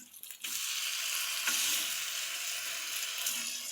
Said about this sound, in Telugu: నేను ఫిష్ ఫ్రై చేస్తున్నా